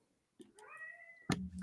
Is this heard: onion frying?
no